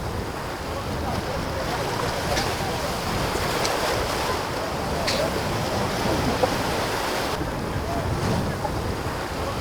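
Sea waves wash onto the beach at Marsa Matruh, Egypt, a steady broadband surf hiss mixed with wind buffeting the microphone, moderately loud and continuous without pauses.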